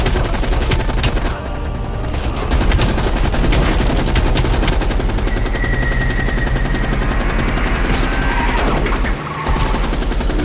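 Heavy, continuous automatic gunfire rattles loudly and densely from start to finish, with brief lulls, as combat plays out in the video game Call of Duty: Black Ops Cold War.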